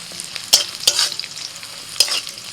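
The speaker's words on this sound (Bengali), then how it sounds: "কড়াইতে অল্প তেল দিয়ে এবার আমি ভেজে নেব কাজু বাদাম আর কিশমিশ।" Cashew nuts and raisins fry in a little oil in a wok, heard as a faint sizzle with a few sharp scraping clicks close by.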